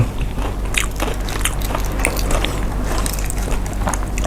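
Someone bites and chews crunchy garlic-fried soft-shell crab up close, giving a dense run of crackly crunches and wet chewing for a few seconds, with no speech.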